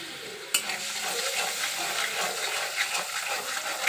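Spice paste of ground spices, chilli powder and a little sauce stir-fried in oil, opening with a sharp sizzle burst then a steady crackling fry with scraping stirs, no speech.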